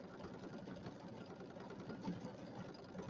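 A sewing machine runs a decorative stitch along the raw edge of fabric on a small penguin mug rug, giving a steady, faint mechanical whirr that continues throughout with no break.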